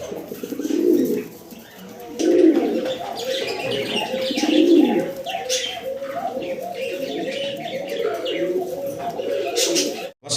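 A pair of large Black Board Archangel pigeons coo repeatedly up close, their rhythmic throaty calls rolling on steadily with faint chirps from other birds behind.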